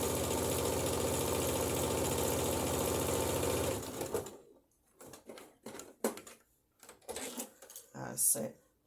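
A sewing machine stitches fabric in a fast, steady mechanical run for about four seconds, then stops; brief sporadic clicks and rustles follow.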